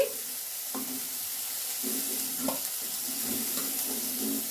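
Shrimp fry in oil in a kadai, giving a steady close sizzle with a few soft scraping or stirring knocks, no voices.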